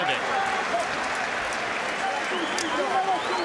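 A crowd at a 2002 professional boxing match between Arturo Gatti and Gianluca Branco applauds and cheers in a dense, continuous roar, with voices mixed into the noise throughout.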